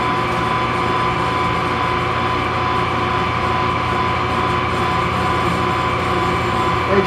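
A small lathe being cranked down for a cut gives a loud, continuous mechanical drone with steady tonal humming and rattling, close and unchanging throughout, with no talking.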